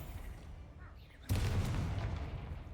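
A Confringo blast spell in a Harry Potter video game, heard as one sudden booming burst that rings and rumbles on for over a second after a quieter lead-in.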